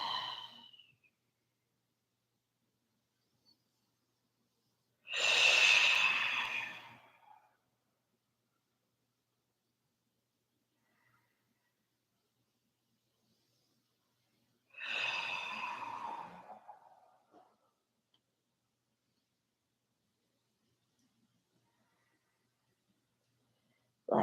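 Slow, deep breaths during a quiet yin yoga pose, two long airy exhales about ten seconds apart, close and soft, separated by near silence.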